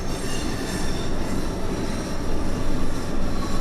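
An NYC Subway R142A train in the OpenBVE game rumbles steadily along the track, with loud broadband motor and wheel noise, faint wheel squeal and a rhythmic clatter that swells slightly near the end, with no voices.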